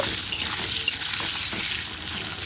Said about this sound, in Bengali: পটল ভাজার তেলের মধ্যে আলুগুলো আমি ভেজে নেব